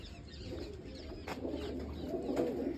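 Pigeons at a rooftop loft, with soft cooing and low fluttering close by over a steady outdoor background, no speech heard.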